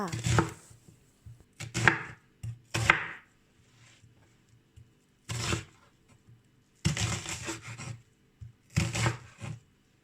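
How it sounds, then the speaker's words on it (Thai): Several bursts of knife chopping onion on a cutting board, quick rhythmic taps in short clusters separated by pauses, close and moderately quiet. "หอมหัวใหญ่ หั่นตามชอบเลยจ้า"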